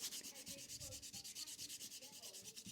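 A nail tip is buffed with steady, rhythmic back-and-forth strokes, a close, even rasping scrape repeating about eight times a second with no voices.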